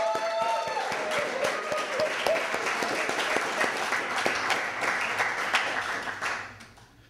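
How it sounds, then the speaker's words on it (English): Sustained applause from a poetry reading audience at a library, a dense wash of many hands clapping that holds steady and then fades out at the end. "Let's give her another great round of applause."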